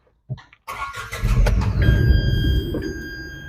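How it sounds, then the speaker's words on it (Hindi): A car engine is started after its fault codes are cleared with a scanner: a brief click, then the starter cranks and the engine catches and settles into a loud, steady idle close by. "गाड़ी स्टार्ट कर दी।"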